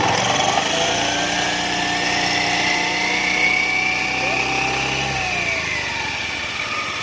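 An automatic scooter engine is revved with its CVT pulleys turning, giving a loud, close, sustained whine that rises and then falls, with speech over it.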